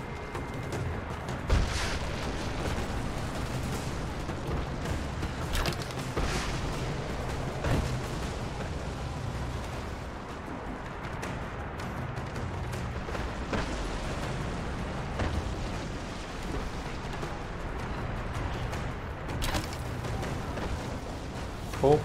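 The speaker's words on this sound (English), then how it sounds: "the trebuchet is shooting from everywhere" Battle din from Rise of the Tomb Raider, with trebuchets firing across a war zone: continuous rumbling booms and impacts, dense and fairly loud, with sharper thuds around a few moments and a voice talking over the chaos.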